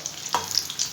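Brinjal bajji fry in hot oil over medium heat, giving a brief soft sizzle with light crackles and a single stir or turn. Close and fairly quiet, with no talking.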